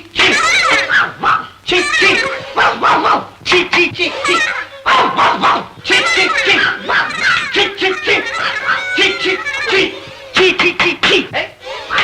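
A man in a Telugu family drama film imitates a dog barking with his voice, a series of loud, close yelping bursts mixed with shouted talk.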